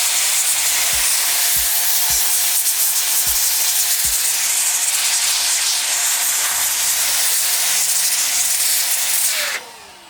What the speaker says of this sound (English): let's go ahead and see if we can clean out anything from this